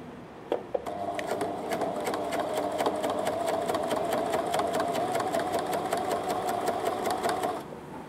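A sewing machine stitches a jeans hem, running steadily and loudly for about seven seconds with a rapid, even needle rhythm before stopping.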